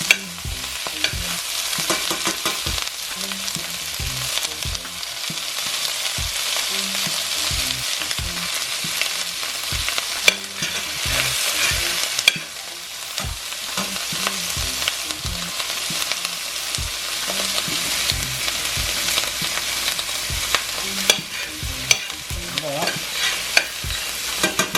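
Shrimp with red peppers and onions sizzle loudly in a hot pan, with repeated stirring and scraping clatters at an uneven rhythm throughout, close and busy with no talking.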